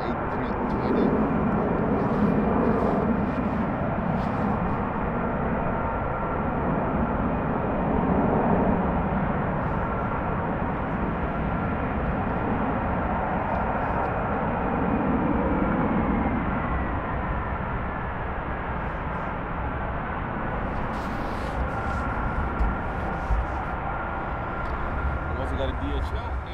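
An Austrian Airlines A320 jet at Frankfurt airport gives a steady, sustained roar under a wintry, windy outdoor ambience, holding fairly even loudness throughout with occasional faint background clicks.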